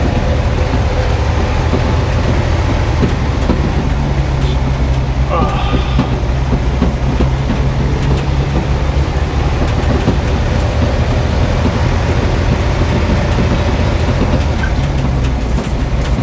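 A 1957 REO dump truck cruises in fifth gear, a steady loud engine drone with road rumble and rattling cab noise throughout.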